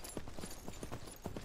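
Horse hooves galloping in the survival game Myth of Empires, a steady rapid clip-clop of repeated thuds, close and fairly loud, with no talk over them.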